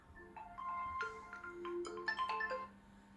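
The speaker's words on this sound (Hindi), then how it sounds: "किसका फोन आ गया?" A phone ringtone plays a bright, repeating electronic melody of distinct tonal notes for about three seconds at moderate loudness, with no voices over it.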